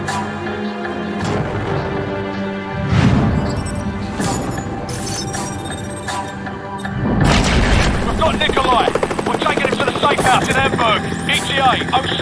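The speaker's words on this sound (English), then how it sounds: "What the bloody hell is that? Incoming missile!" Incoming missile explosions in Call of Duty Modern Warfare Remastered: deep booms thud in around three, five and seven seconds, with crashing debris and dense battle noise that swells loudly after the last blast.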